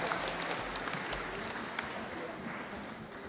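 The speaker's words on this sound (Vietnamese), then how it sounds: "chúng ta vỗ tay" A crowd applauding steadily at a Catholic Mass for Christ the King, clapping dense and even throughout, with a faint voice underneath.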